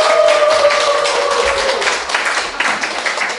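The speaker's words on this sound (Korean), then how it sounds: "오늘 특강을 해주실 수산 김정일 교무님을 큰 박수로 모시겠습니다." A seated audience at an evening lecture of a mind-study college applauds loudly to welcome the guest lecturer, continuous close clapping filling the whole stretch.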